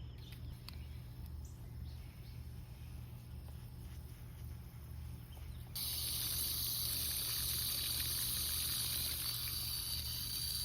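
Garden tomato plants are watered, with faint outdoor background at first, then a sudden steady hiss of spraying water that continues evenly to the end.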